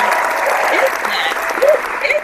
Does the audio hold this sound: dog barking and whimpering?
no